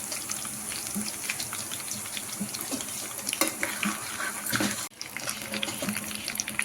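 Crushed garlic and dried red chillies fry in a pan, a faint, steady crackle and sizzle heard up close with small pops and a brief clatter near the end.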